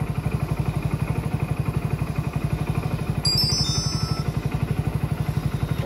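A motorcycle on a parcel delivery ride runs with a steady pulsing engine throb and road rumble, close and continuous, with a brief high whine partway through and no talking.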